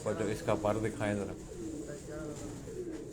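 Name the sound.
pigeon cooing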